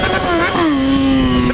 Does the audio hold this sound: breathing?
no